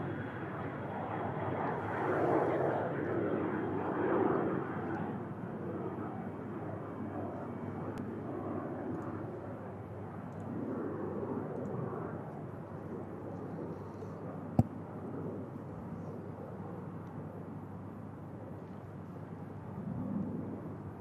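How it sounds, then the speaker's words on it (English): A TUI Boeing 737 on runway 23 left at Manchester Airport gives off a distant, muffled engine roar that swells and eases over about twenty seconds, with a soft wind-like rumble underneath. "TUI 737 lining up on 23 left."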